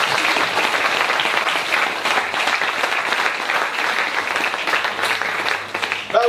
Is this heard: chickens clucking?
no